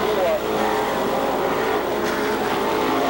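Race car engines roar in a steady, continuous drone, close and loud, as Sportsman cars come off a turn on the Seekonk Speedway oval, with a commentator talking over the noise.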